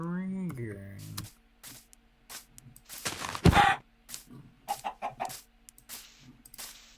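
A chicken clucks in several short bursts amid scattered clicking and a loud rustle, with voices around it.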